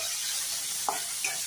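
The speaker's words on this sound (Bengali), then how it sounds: "এবার আমি তেলের মধ্যে দিয়ে দেবো গোটা গরম মশলা, জিরে, তেজপাতা, শুকনো লঙ্কা, ফোড়ন দিয়ে আমি এবার এখানে একটা টমেটো অ্যাড করছি" Whole garam masala, cumin, bay leaf, dried chilli and tomato sizzle in hot oil with a bright, continuous crackle, and two brief stirring scrapes stand out in a short stretch without speech.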